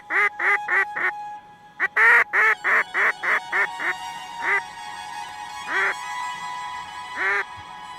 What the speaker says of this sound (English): All mallards.